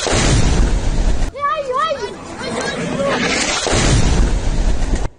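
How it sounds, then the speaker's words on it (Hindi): A missile strike explosion near a camp in Gaza booms loudly, then gives way to crowd noise and voices before the heavy rumble returns at the end. "इजराइल ने गाजा में कैंप जो था उसके पास ये धमाका किया है"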